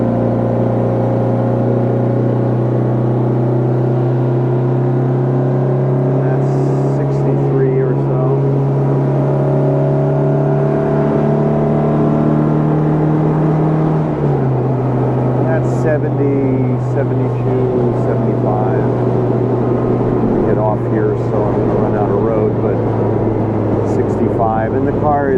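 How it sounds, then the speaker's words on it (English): Engine and road drone from a modified 1964 Spridget with a 5-speed gearbox cruising on a highway at about 50 mph, a steady close hum that drops in pitch with a gear change partway through, under continuous talk. "It's a lot of fun to drive the car."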